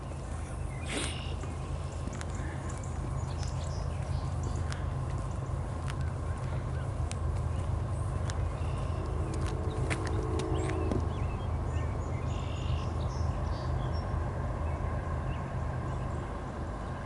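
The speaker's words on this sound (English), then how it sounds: "there's train horns blowing through the air" Distant train horns sound faintly across a steady outdoor ambience, with one drawn-out horn tone standing out briefly midway.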